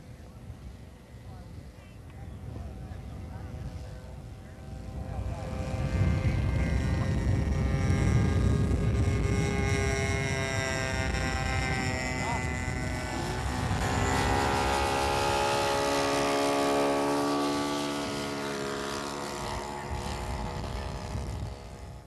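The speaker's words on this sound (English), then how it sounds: "Power is provided by an OS-91 4-stroke engine." Radio-controlled Waco cabin model plane with an OS-91 four-stroke engine, flaps and retractable landing gear, flying at a 1989 RC event: a steady droning engine note rising and falling as it passes, heard under a narrator's talk.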